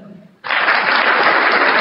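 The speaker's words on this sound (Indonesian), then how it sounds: "Tepuk tangan." After a moment of quieter murmur, an audience at a religious talk bursts into loud, dense applause that holds steady and close for over a second.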